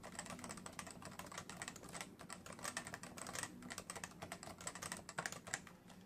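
Steady rapid typing on a CM Storm Novatouch keyboard with Topre switches, a dense run of soft clacking keystrokes with no voices.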